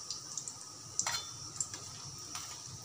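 Snacks fry slowly in oil over low heat with a soft, steady sizzle, broken now and then by light clicks and taps of a utensil against the pan; quiet and close, with no talking.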